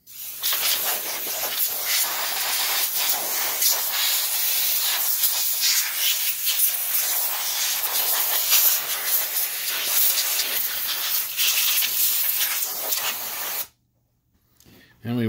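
Compressed air blasts dust out of an Optoma HD20 DLP projector in a loud, continuous hiss of spray. It runs steadily for about fourteen seconds, then stops abruptly and briefly resumes at the end.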